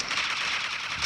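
Rapid automatic gunfire in the game Counter-Strike, a dense continuous burst of crisp shots lasting about a second, loud and alone.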